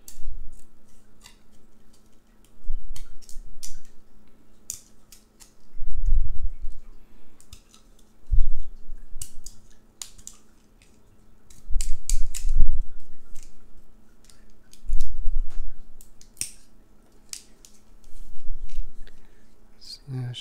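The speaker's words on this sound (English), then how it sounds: "cut it down the length of the straw first" Scissors slice a drinking straw lengthwise for isolating peppers for seed saving, giving repeated close, crisp snipping crunches in clusters every couple of seconds.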